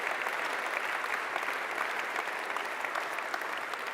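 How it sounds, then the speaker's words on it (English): Audience applauding at a live sustainable-chef cooking competition grand final during an anniversary celebration, steady dense clapping filling the room throughout, with no voices over it. "that deserves a huge round of applause"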